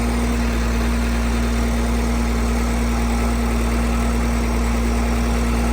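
A Komatsu PC200-7 excavator engine idles steadily up close, a smooth, constant low rumble and drone with a mechanical hum and no talking.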